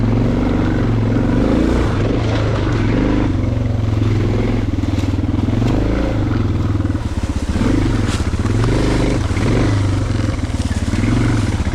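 A Suzuki DR650 dual-sport motorcycle climbs a bank on singletrack, its single-cylinder engine loud and close, thumping steadily and rising and falling with the throttle over wind noise.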